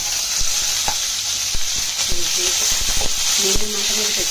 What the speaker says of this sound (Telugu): కలిపి బాగా వేయించండి